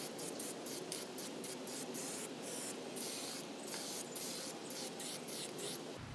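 Car primer sprayed from a can over a repaired rust hole gives a steady close hiss in quick repeated bursts, with short pauses between passes, and no talking.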